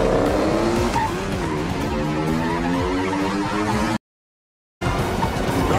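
Trucks in a Fast & Furious 10 chase scene veer into traffic with loud squealing, skidding tires and roaring engines, a dense continuous tangle of screeches that cuts to silence near the end and then resumes.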